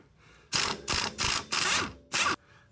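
A hand ratchet wrench clicks on the axle castle nut of an EF Civic sedan during an engine swap: five loud, close ratcheting bursts in quick succession with short gaps between strokes, no talking.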